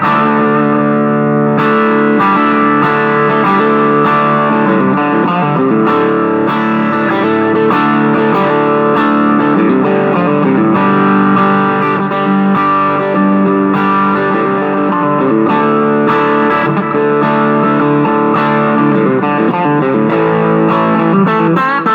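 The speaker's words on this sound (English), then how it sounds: "the whole pedal in action without the speaker sim sounds like this" Electric guitar played through a Sonicake multi-effects pedal with no speaker simulation, a continuous loud distorted and buzzy tone with chords ringing steadily throughout, no talking.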